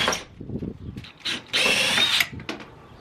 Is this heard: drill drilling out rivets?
yes